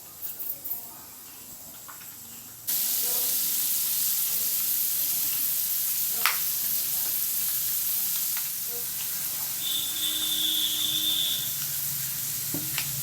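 Almonds, raisins and melon seeds fry in hot fat in a pan for double ka meetha, giving a steady, close sizzle with a few faint clinks of stirring; it swells louder after a few seconds and continues evenly to the end.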